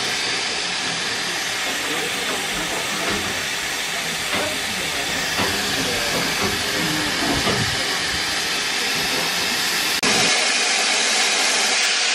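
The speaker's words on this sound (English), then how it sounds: "Here comes the train" A train pulls into a station near a holiday park in Brixham with a loud, steady hiss of steam and rumbling rail noise that fills the scene, ending abruptly as the roar continues.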